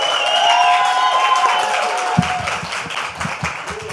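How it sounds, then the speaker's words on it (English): An audience at a poetry slam finale applauds, a dense wash of clapping that thins out into scattered individual claps, fairly loud and close, with no talk over it. "please give yourselves a round of applause for being an amazing audience this entire week"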